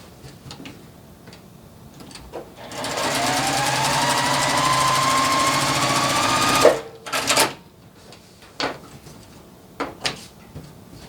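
A sewing machine stitches a log cabin quilt block with a quarter-inch seam, running in one steady whir for about four seconds, then stopping, followed by a few sharp clunks and taps.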